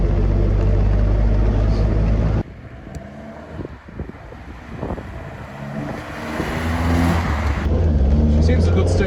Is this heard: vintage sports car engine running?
yes